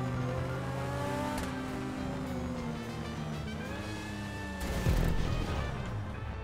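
Car engine racing in GTA V Online, a sustained high revving whine with shifting pitch, loud and constant, with a brief harsh impact or scrape near the end.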